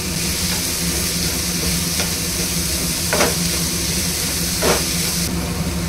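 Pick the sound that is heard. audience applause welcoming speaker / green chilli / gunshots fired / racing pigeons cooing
green chilli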